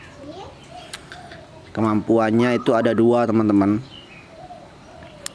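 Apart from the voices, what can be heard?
zebra dove (perkutut) cooing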